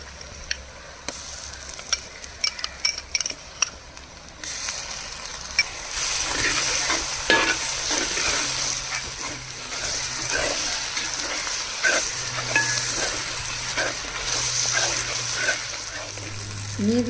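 Ginger garlic paste hits hot oil in a pan while making chicken roast. A few clicks and taps come first, then a loud continuous sizzle with spoon stirring and scraping, close by.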